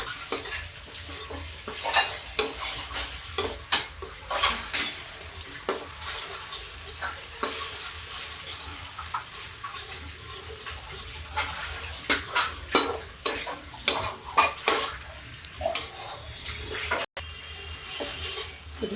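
Masala for kaddu kofta sizzles in a pan while a spoon repeatedly scrapes and stirs through it, making irregular clinks over a steady frying hiss, close up with no talking.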